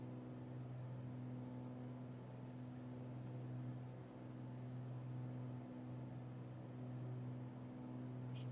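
A Cirrus SR22T engine at reduced throttle in Microsoft Flight Simulator holds a quiet, even, tonal drone with a low steady hum, with no voices over it.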